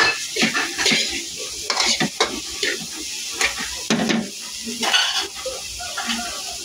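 Sisig Kapampangan stir-fried in a metal pan, with a continuous loud sizzle under repeated scraping and clanking of a utensil against the pan in an uneven rhythm.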